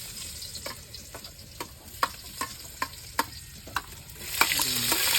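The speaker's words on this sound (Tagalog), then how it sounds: "mainit na yung ating mantika at ilalagay na natin itong ating bawang at saka sibuyas." Garlic and onion frying in hot oil in a pan, a steady soft sizzle with regular sharp scrapes of a utensil stirring, growing louder and hissier toward the end.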